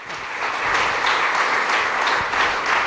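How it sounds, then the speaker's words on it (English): Audience applause at a triathlon club meeting, a steady wash of many hands clapping at moderate loudness for a few seconds, no voices over it. "How about a round of applause?"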